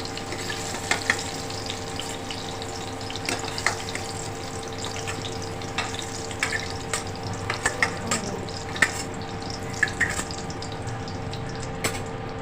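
Chicken skin frying in hot oil, a steady close sizzle and crackle with a few soft clinks and stirring sounds now and then.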